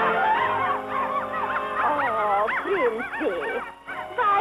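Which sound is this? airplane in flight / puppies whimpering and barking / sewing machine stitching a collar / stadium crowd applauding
puppies whimpering and barking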